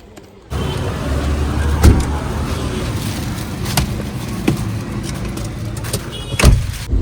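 A car engine idles steadily inside the vehicle, a constant low hum with a few brief knocks and thuds from the cabin over it, and no one speaking.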